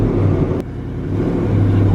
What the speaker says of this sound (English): A white Mustang, 2018 Mustang GT.